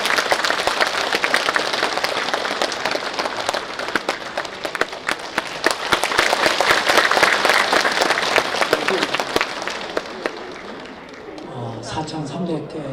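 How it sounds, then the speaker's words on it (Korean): Sustained audience applause at a parliamentary report meeting held in an event hall, dense and loud clapping for about ten seconds that tapers off before a voice starts speaking. "여러분 박수로 함께 받아주시죠."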